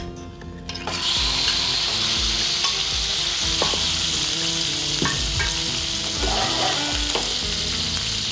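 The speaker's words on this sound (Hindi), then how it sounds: "इसको आप शैलो फ्राई करेंगे।" Prawns drop into hot coconut oil and shallow-fry, and a loud, steady hiss rises after a second. Repeated scraping and stirring strokes run under the sizzle, close by, with no voices.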